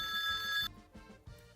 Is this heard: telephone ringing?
yes